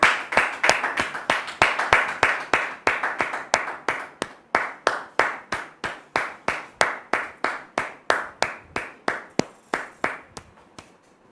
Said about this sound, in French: On va recevoir donc le pasteur de notre frère Martial, le pasteur Eli, sous vos applaudissements